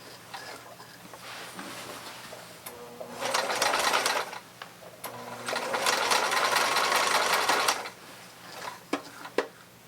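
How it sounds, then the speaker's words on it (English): An old sewing machine runs in bursts of fast mechanical whirring and ticking, two longer loud runs separated by quieter pauses and a few sharp clicks, fairly close. "the verdict is I think the machine runs"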